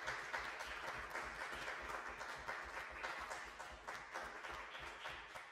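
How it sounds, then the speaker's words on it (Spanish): Audience applause for two speakers after a talk, steady clapping from a modest crowd in a room, fairly even throughout and slowly tapering near the end. "un aplaudiment en el Toni i a l'Anís"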